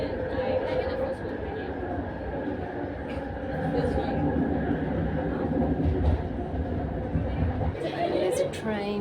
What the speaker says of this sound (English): There's a train down on the rails below.